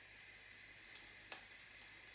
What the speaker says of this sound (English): That's garlic and herb sizzling away.